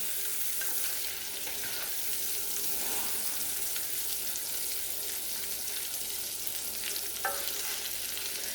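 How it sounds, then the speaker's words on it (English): Sausage and shrimp sizzle and sear in hot oil in a skillet while being stirred, a steady close frying hiss with faint scraping of the utensil and no talking. "we're going to sear that up, get it a nice brown color. And I'm just stirring around in the oil"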